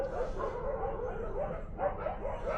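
Several dogs, including a black one, bark and yip in short repeated bursts from moderately near, as if wary of a hyena close by, with the barking rising toward the end and no clear talk.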